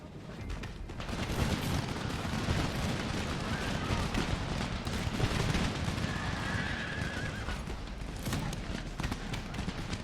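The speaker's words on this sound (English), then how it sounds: "now they are firing their first volley" Musket infantry volley fire in Empire Total War, a dense continuous crackle of massed gunfire and battle noise with horses neighing in the mix, sustained and loud throughout.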